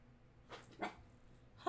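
A puppy lets out a few faint, soft yips and a whimper at a distance, then a sharper, louder bark-like cry right at the end, in a quiet indoor room.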